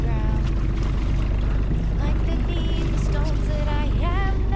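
A small Mercury 2.5 horsepower gas outboard motor drones steadily on a dinghy, loud and close throughout, with people talking over the engine noise.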